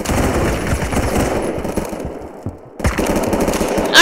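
Gunfire rattles in a Roblox game, rapid bursts of machine-gun shots loud and close, breaking off briefly before the firing resumes.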